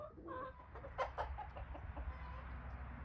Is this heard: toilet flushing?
no